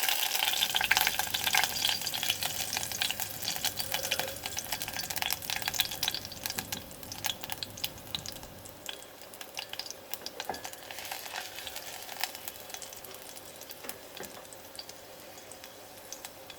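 Continuous crackling sizzle of garlic and dried red chillies frying in hot oil for a tadka, with occasional stirring and spattering pops, close by and without any talking.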